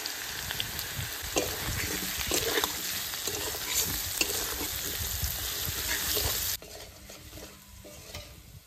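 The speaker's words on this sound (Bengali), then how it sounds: "হলুদ দেওয়ার পরে একটু ভেজে নিয়েছি" Potatoes with onion, green chilli, salt and turmeric frying in oil for a fish curry, with a close, busy sizzle and a clatter of stirring that rises and falls before dropping quieter near the end.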